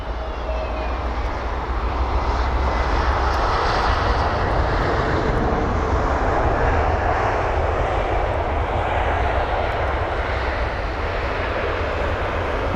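A brand-new Aer Lingus Airbus A320neo arrives at London Heathrow from Dublin, with a continuous loud jet roar and rumble holding steady throughout, with no voices.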